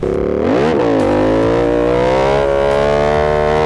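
An Aprilia RS 457 motorcycle fitted with a full-system exhaust revs loudly and close, a brief blip climbing and dropping, then a sustained rising engine drone held steady for several seconds.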